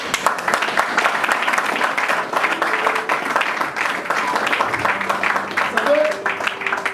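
A church congregation applauds and cheers for Jesus, a dense continuous wash of clapping and crowd voices with a few sustained vocal tones rising above it throughout.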